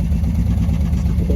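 An abandoned 1964 Plymouth Valiant convertible's engine runs rough, a close, steady, uneven mechanical rumble with light clatter and no voices over it.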